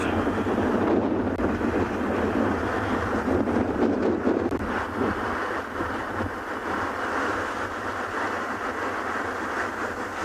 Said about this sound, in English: My flaps are blowing around from my roof.